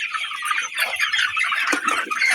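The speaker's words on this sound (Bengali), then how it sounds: "দেখেন মুরগি" Chickens of the Sonali breed cluck and squawk together in a poultry shed, a dense, close chorus of overlapping bird calls filling the space with no talking.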